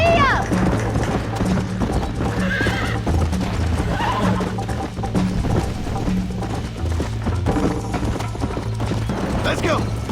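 A horse gallops and whinnies in the Red Dead Redemption video game, its hooves pounding steadily and close at hand under a loud, busy mix with brief calls and other game noise.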